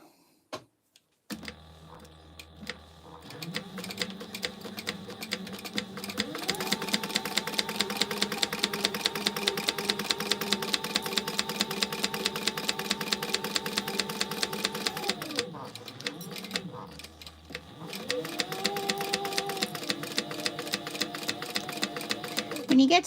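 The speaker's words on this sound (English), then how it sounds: "I'm just going to sew at the beginning and the end." A sewing machine runs steadily while back-stitching a fabric gingerbread house gift holder. It whirs in long continuous bursts with rapid needle ticking, pausing briefly mid-run before starting again. Someone talks intermittently over it.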